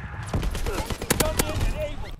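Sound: Chatellerault LMG gunfire in Call of Duty WW2 video game

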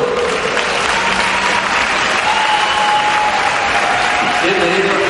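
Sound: audience applause

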